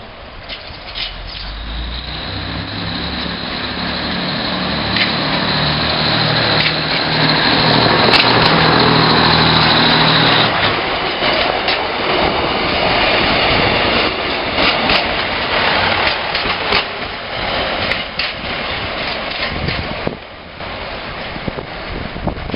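Two 1968-built diesel multiple units, formerly of Perth and now in Auckland, running on a rail tour: a loud, sustained engine roar builds and holds with rumbling low tones and wind buffeting, without speech.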